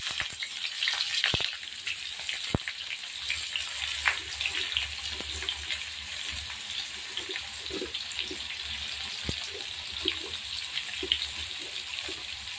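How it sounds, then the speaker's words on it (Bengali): Chopped onions frying in hot mustard oil in a wok, giving a steady soft sizzle with occasional clinks and scrapes of stirring, moderately close and without talk. "এবার আমি কড়াইয়ের মধ্যে পেঁয়াজ কুচনো আগে দিয়ে দেব"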